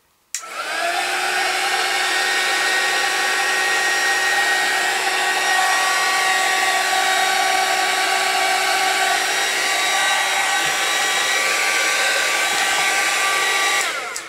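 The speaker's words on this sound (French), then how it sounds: "Alors, je vais prendre mon pistolet chauffant." A loud, steady whirring blast of hot air from a heat gun drying paint on a handmade card, running continuously at close range with a constant high whine.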